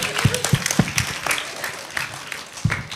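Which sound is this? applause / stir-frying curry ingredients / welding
applause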